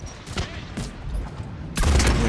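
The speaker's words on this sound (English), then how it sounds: "let there be tech bursts and explosions" Tech bursts and explosions in the video game Mass Effect 3 multiplayer: several sharp bursts in quick succession, then a louder blast near the end, with faint voices underneath.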